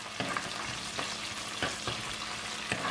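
Onion, garlic, green chili and curry leaves sauté in a pan for sambar, a steady close sizzle with occasional scraping stirs and no talk.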